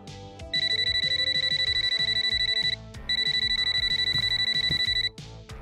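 A mobile phone left at home rings loudly with a bright, repeating electronic trill in two long bursts separated by a short pause, with no talking.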